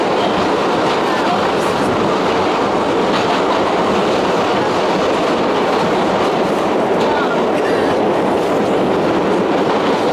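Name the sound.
New York subway 1 train running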